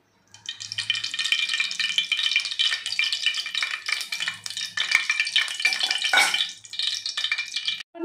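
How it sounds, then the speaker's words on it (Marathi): Oil poured into a preheated cooking pot for a Maharashtrian bombil (Bombay duck) curry crackles and sizzles close up, steady bright frying noise with a few louder spits and faint stirring clinks. "इकडे मी एक टोप घेतलाय आणि गरम करायला ठेवलं होतं आधीच आणि हे तेल टाकत आहे याच्यामध्ये"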